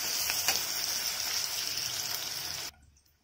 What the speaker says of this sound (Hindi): आनियन को एकदम गोल्डन करके फ्राई कर लेंगे